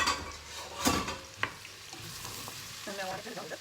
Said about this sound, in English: It's still simmering. I'm going to stir.